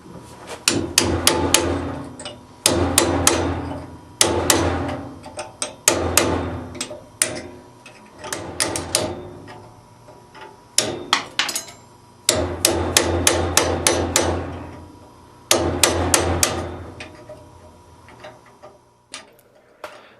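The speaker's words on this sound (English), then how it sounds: "Now I can use a cold chisel to cut out the section of each hinge that I don't need." A hammer strikes a cold chisel cutting through a steel hinge, giving loud ringing metallic blows in quick rhythmic bursts of several hits separated by short pauses, close up with no talking.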